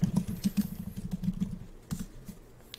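Close, loud keystrokes on a computer keyboard typing out a Python version command, an irregular burst of clicks that pauses briefly and resumes, with no voices.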